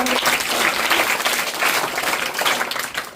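An audience at a school science demonstration claps hard and continuously, a thick, loud burst of applause that holds steady and thins slightly near the end.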